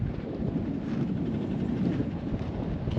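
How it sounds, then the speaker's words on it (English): Wind blowing outdoors at a mountain overlook on a rainy, overcast day, a steady broadband rush buffeting the microphone throughout, with no speech. "It's windy."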